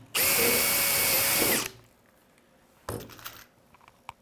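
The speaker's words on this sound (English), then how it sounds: "We'll drill this hole next." Power drill boring a rivet hole in a metal top frame during assembly, one loud sustained whine of about a second and a half, then a short burst of handling clatter.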